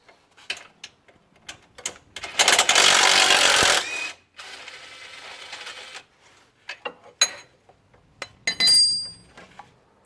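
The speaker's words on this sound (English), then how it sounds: "At the top we have a 5/8 wrench, and at the bottom we're just gonna have a T12 socket" A 5/8 wrench and a T12 socket work on the rack and pinion bolts of a BMW 335i with the N54 engine, giving metallic clinks and ratcheting ticks around a burst of power-tool whir.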